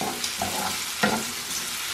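Grated-potato dumplings sizzle in a frying pan with a steady, close crackle, broken by a few soft clinks and scrapes as they are moved about.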